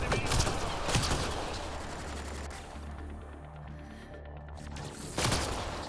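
Gunfire from Mass Effect Andromeda as shots target heads: dense bursts of shooting with sharp reports near the start and again at the end, over a steady low hum of game ambience.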